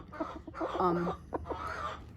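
A broody hen clucks in a coop, a run of close, fairly loud throaty clucks and a drawn-out, wavering cackle, with a few quieter clucks after it.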